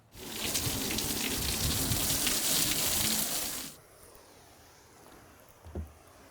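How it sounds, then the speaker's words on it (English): A spray of water wetting a wooden deck before brightener goes on, a loud steady hiss for about four seconds that cuts off abruptly, followed by quiet with a faint thump. "We're going to wet the deck, the rest of the surface, and apply the brightener"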